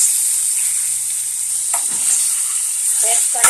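Chicken pieces fry in a pan with a loud, constant hiss, while a few scraping stirs of the spoon come through near the middle and the end.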